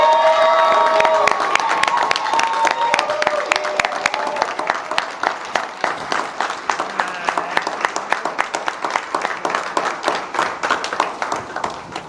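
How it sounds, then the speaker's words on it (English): An audience at a children's center grand opening celebration claps and cheers, with a crowd's whoops and shouts at first giving way to sustained rhythmic clapping that fades slightly over twelve seconds. "please join me in providing a warm round of applause"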